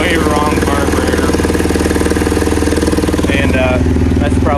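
A gas-converted golf kart engine idles on choke with a steady, close, loud mechanical putter, while someone talks over it.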